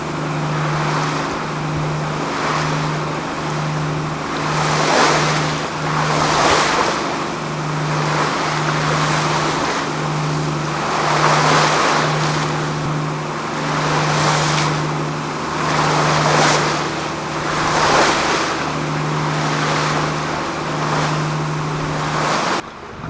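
The trawler Sea Venture cruises on a gentle swell toward Bahia Concepcion. A steady pulsing engine drone runs underneath while waves wash and surge against the hull in slow rhythmic swells, loud and continuous, with no voices.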